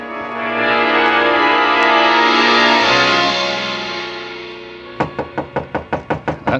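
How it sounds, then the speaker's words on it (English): Knocking on a hotel room door: a quick series of about eight firm, evenly spaced raps, close and loud, coming right after a sustained swelling musical drone fades out. "The knock surprised me."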